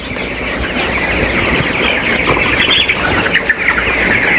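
A dense, steady chorus of chickens clucks and murmurs throughout a poultry farm shed, where some birds are sick with infectious bronchitis and sit with fluffed-up feathers; the flock noise is loud and continuous, with no talking.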